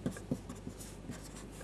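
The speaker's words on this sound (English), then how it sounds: "let me write the set here" A pen or chalk scratches out short, faint strokes on a board, with a few soft taps and scrapes over quiet room tone.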